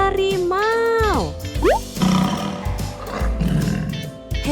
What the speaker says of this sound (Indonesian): Harimau.